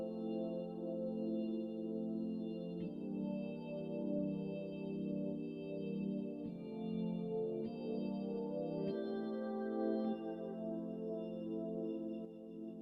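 Soft organ on a ballad setting holds quiet sustained chords with a panned synth pad layered beside it, faint and steady across about thirteen seconds, the chords changing every few seconds.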